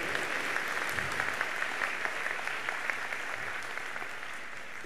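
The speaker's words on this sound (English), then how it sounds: "Give her a big round of applause." Steady, dense applause from a convocation audience honoring a student, sustained evenly throughout at moderate distance with no voices over it.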